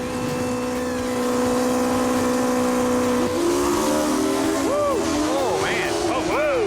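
A Chevrolet Nova drag car roars down a drag strip at a racing event, its engine holding a loud steady drone and then revving hard through rising and falling shifts, with crowd noise and commentary underneath.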